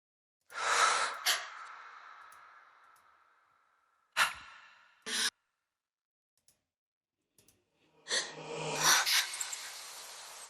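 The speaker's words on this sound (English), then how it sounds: "So here are all the breaths soloed together." Breath samples soloed from the drop of a dance remix, several sharp airy inhales and exhales with reverberant tails, separated by silent gaps, ending in a longer breathy swell.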